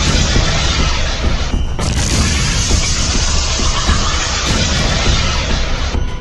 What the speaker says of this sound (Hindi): हिजबुल्लाह के लड़ाके रमीम बैरक के पास एंटी टैंक मिसाइल फायर करते हैं और फिर होता है ये धमाका